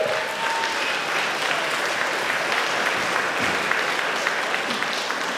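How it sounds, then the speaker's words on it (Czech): Steady applause from an audience at a children's summer musical theatre school show in Holíč, a dense even wash of clapping that holds at a constant level throughout without voices standing out. "Takže ještě jednou potlesk pro Braňa"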